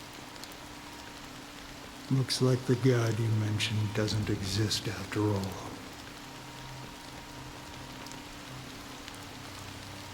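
Steady fine drizzle patters faintly in the background of a Honkai: Star Rail scene, continuing throughout while a voice talks over it for a few seconds midway.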